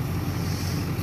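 A 2004.5 LLY Duramax diesel engine, running injector cleaner mixed into its fuel and smoking at idle, idles steadily with a low, even rumble and broadband hiss, no voices present.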